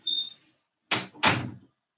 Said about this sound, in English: Will you close this door real quick?